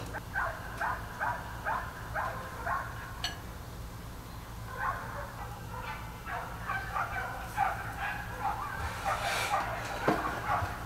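Several dogs bark and yip in short bursts at night during a Gulf of Mexico tuna jerky cook, moderately loud over a steady low hum, with a clink or two.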